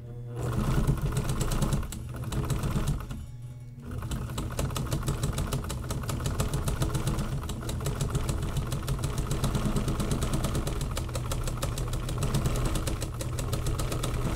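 A sewing machine runs a zigzag stitch on a laptop bag, a fast, close, rapid mechanical chatter that pauses briefly a couple of times early on before running continuously.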